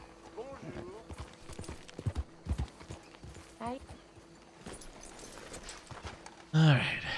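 Hooves clip-clop at a walking pace in the video game Red Dead Redemption 2 while a person talks over them, ending with a louder burst near the close.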